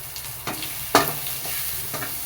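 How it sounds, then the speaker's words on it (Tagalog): Onion and garlic sauté in a little oil for sweet and sour fish, a soft steady sizzle broken by a few sharp spatula scrapes and stirs against the pan, close and fairly loud. "Then, igigisa na natin onion."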